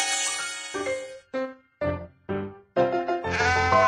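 A cartoon sheep bleats in an animated hearing test, a run of about five close, loud bleats separated by brief pauses, the last one drawn out.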